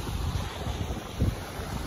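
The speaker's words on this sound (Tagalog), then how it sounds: "perting kusuga sa huros sa hangin" Strong wind gusting across an open sandbar at Sumilon, with a steady blustery rumble and buffeting on the microphone, and a surf-like wash running throughout.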